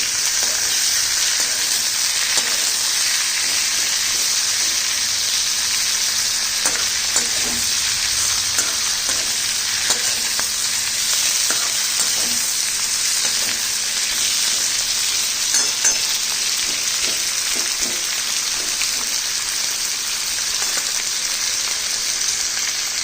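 Chopped tomatoes, three of them, fry and are stirred in a pan while cooking butter mushroom, giving a steady loud sizzle with scraping stir strokes throughout, no voices.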